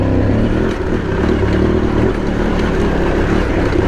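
An Aprilia Tuareg 660 motorcycle engine chugs steadily in second gear on a rough trail, producing a loud, close, continuous low rumble with no talk.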